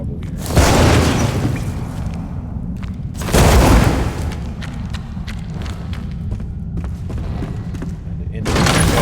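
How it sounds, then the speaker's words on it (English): Small grenade-like explosives blast through rubble in the survival game Enshrouded, giving three loud, close booms spaced a few seconds apart, each with a crackling, debris-filled tail, while someone talks between them. "These things are like little grenades. We'll use those to break through rubble here."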